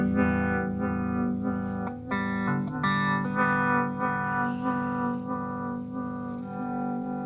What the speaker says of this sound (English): Sounds more like a tremolo than an actual phaser.